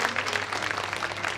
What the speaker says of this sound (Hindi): तो एक बार जोरदार तालियां हमारे यजमान परिवार के लिए,